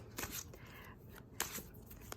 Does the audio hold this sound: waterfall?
no